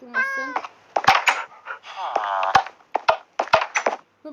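A cat meows in a game's prison setting, giving a drawn-out meow and several short cries mixed with thumps and clicks, while a person speaks briefly.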